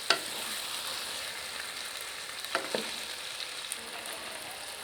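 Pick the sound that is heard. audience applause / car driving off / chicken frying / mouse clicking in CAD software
chicken frying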